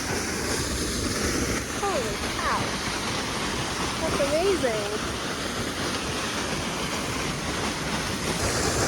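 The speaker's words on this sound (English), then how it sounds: "We can hear a gushing waterfall." A gushing waterfall on the central Oregon coast roars steadily and continuously nearby, heard from a bridge, while a person exclaims excitedly over it.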